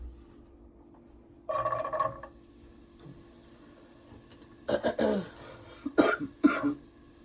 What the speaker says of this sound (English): We both got a cough.